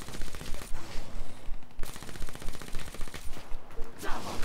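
Rapid automatic gunfire in Black Ops 3 Zombies aimed at a giant swamp monster, loud dense bursts rattling almost continuously with only brief gaps.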